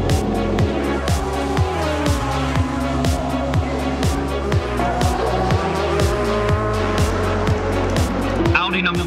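Audi and Toyota race cars at the Le Mans 24 Hours, engines revving up and down through repeated gear changes, loud and continuous, with a commentator speaking over them.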